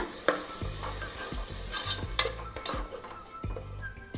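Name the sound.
masala frying and bubbling in pan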